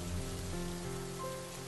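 Steady rain falling on a surface in a quiet setting, a dense, even hiss of drops with no voices, used as an ambient effect behind a Malayalam audiobook.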